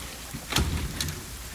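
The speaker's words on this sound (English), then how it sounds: "We got some rain, guys." Steady rain falling outside in a garden, a constant broad wash of droplets with a slightly louder burst of heavier patter partway through; no voices.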